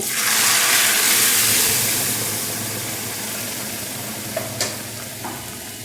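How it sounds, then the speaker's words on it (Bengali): Chana dal pours into a hot frying pan and is stirred, giving a steady broad sizzle that fades slightly, with a few soft clinks near the end. "এইবার ডালটা আমি এর মধ্যে ঢেলে দিচ্ছি।"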